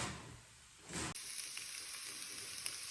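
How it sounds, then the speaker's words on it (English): Gentle continuous sizzling of onions frying and pecans toasting in a pan, fairly quiet, with a short louder hiss near the start and faint crackles afterward. "While the pecans are toasting and the onions are frying gently"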